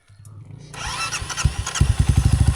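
A motorcycle engine cranks and catches on a mountain trail at Mt Tapulao, building from a short starter whir into a loud, steady idle of rapid, rhythmic pulses that grows louder toward the end.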